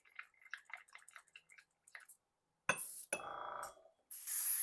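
Water drips and clinks in an airbrush cup as it is rinsed. Then two bursts of gurgling, bubbling backflow follow, and a loud hiss of spray closes the sequence.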